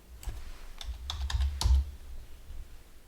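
A file name is typed on a computer keyboard, a short burst of a few crisp key clicks close by, quiet and alone.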